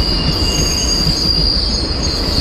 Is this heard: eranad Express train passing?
yes